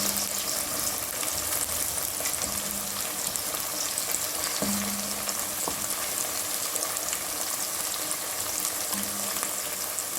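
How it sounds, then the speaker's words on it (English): Steady, loud sizzling of onions frying in a hot pan, a constant crackle with occasional faint clinks, no voices. "my onion is cooking nicely, frying away"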